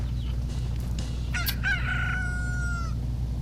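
Grown chickens crow in the video game The Legend of Zelda: Majora's Mask, with a short squawk followed by one drawn-out crow over a steady low background tone.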